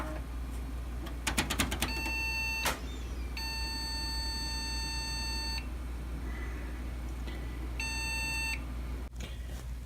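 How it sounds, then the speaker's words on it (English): Several short electronic beeps from a PC motherboard at boot: a few quick clicks, then two long steady tones separated by a pause, over a constant low hum of fans in a workshop computer. "Beep codes again, why is that?"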